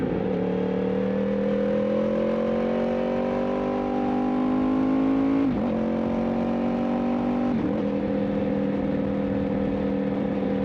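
A tuned Stage 1 BMW M2 xDrive engine revs and accelerates steadily, its rising drone swelling through two gear shifts, loud and close with no talking.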